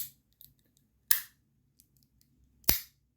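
Bronze Rapt fidget toy fitted with rubber spacers, giving two sharp, close snaps about a second and a half apart, with tiny crunchy rattling ticks in the quiet gaps between them.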